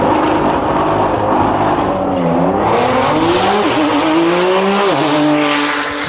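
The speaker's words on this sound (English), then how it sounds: "Bueller in the Corvette on the left-hand side out of Ciccio Performance, and Ciccio driving his own Porsche 911" A Porsche 911 and a Corvette race car launch down a drag strip at a racing event, engines roaring loud and close with rising, shifting revs and a hint of tire noise.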